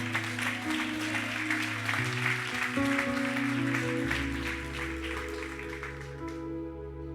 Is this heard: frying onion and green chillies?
no